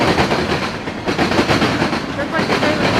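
Norfolk Southern eastbound mixed freight train passing close by in Fostoria, Ohio, with loud steady rumbling and rhythmic clickety-clack of wheels over rail joints throughout, with voices faintly mixed in.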